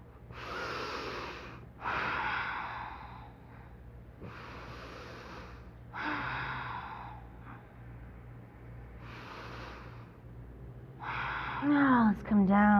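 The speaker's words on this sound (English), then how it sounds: "Have a few breaths." Slow, deep yoga breathing during a relaxing stretch: about six loud, close inhale-exhale cycles, each breath a breathy rush lasting a second or so, separated by brief quiet gaps.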